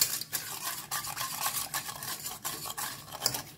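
A spoon stirs a cornflour and pink food colour mixture in a bowl, producing rapid, close, rhythmic swishing and scraping strokes with no talking.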